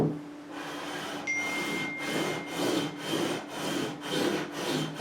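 Frets on a Fender Custom Shop Stratocaster being leveled with the 400-grit side of an abrasive block, a loud, close rhythmic rasping of about eight even back-and-forth strokes after a brief quiet start, no speech.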